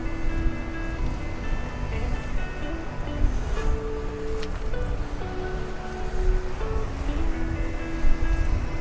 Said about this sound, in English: So the old waves are trickling in nicely.